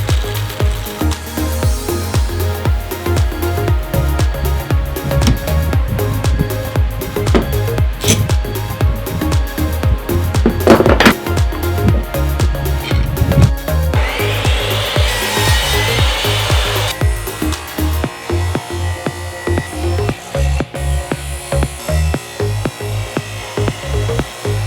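A Forstner bit hogs out material from a wooden mallet head, giving a steady, loud grinding whir of drilling into wood that continues nearly unbroken with slight changes in pitch and scraping.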